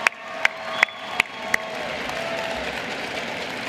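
Audience applause and some cheering for the band at the Skills Alberta opening ceremony, a few sharp claps up front before a steady, moderately loud crowd wash.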